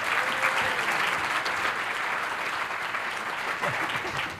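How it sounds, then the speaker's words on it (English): A large audience applauds steadily to welcome a speaker onto the stage at a talk about happiness, a dense, even wash of clapping that fills the room without a break. "So please happily welcome Shawn Achor"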